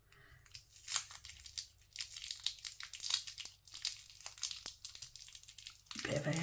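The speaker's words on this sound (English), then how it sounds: "why have they got so much packaging on? There's like a cover and a plastic bit" Plastic packaging on a set of watercolour paints is torn and crinkled close up in irregular bursts of crackling and ripping, with short quiet gaps between handfuls.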